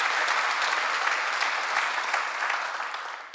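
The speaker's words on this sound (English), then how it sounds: "Y'all clapping, okay, cool." Audience clapping at a live church-style event, a dense, even burst of applause that tapers off gradually toward the end.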